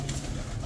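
Pigeons cooing in a backyard coop, a brief, low, murmuring coo close by amid a soft background hum.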